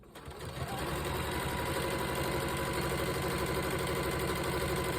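A sewing machine stitches a quarter-inch seam on a beginner's nine-patch quilt block, starting up and then running as a steady, rapid mechanical chatter close by, without talk.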